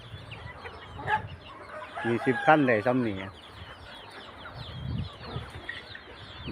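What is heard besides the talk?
chickens clucking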